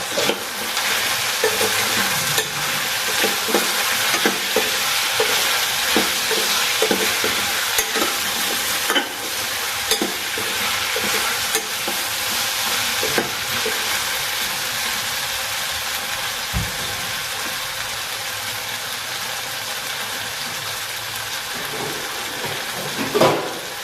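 Chili powder frying in a hot pan, with a steady, close sizzle and stirring scrapes running throughout and no voices.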